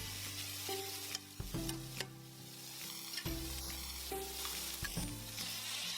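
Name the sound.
stir-frying shredded ingredients in a wok over medium heat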